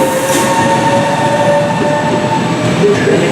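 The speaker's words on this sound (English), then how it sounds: "The Trenitalia, Regior's high-speed train, 9526, from Cinema to Milan Central, scheduled arrival at 11:10, is now arriving at platform 10." A Trenitalia high-speed train pulls into a platform at Roma Termini station in Rome, giving a steady, close rolling rumble of wheels and carriages with faint high squeals over the whole stretch.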